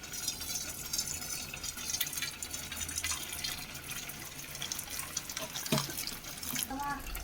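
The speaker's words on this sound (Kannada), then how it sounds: "ಇದು ನೀರು ಬಸ್ಕೊಳ್ಳೋಣ ಬನ್ನಿ." Water is drained off pressure-cooked food in a home kitchen: a steady, close splashing pour runs for several seconds, with a brief clatter near the end.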